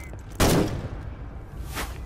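Gunfire in the WWI survival horror game Conscript: a loud, sharp shot with a ringing tail, then a second, quieter report about a second and a half later.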